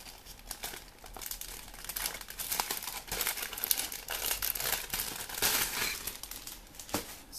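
Crinkly polythene packaging is handled and pulled off sheets of fabric, producing a close, irregular run of rustling and crackling bursts throughout.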